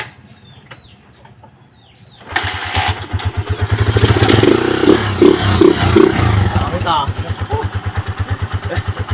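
A Honda TMX 155 motorcycle with an open carb and a stock exhaust starts from a quiet, rooster-crowing yard and settles into a loud, close, rhythmic thumping idle with slight revving, with people talking nearby.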